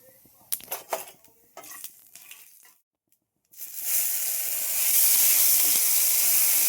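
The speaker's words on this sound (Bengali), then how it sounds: "রসুন আর কাঁচা লঙ্কা একটু ভেজে ভেজে নেবো" Garlic and green chili paste hitting hot oil with nigella seeds, starting with a few utensil clinks and scrapes, a brief near-silent pause, then a loud, steady, broadband hiss of frying that holds to the end.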